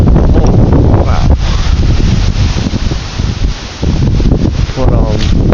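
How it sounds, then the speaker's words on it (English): Strong wind gusting outdoors on a warm day, loud and continuous roaring buffeting across the microphone with rustling, while a person talks intermittently over it. "Look how windy it is."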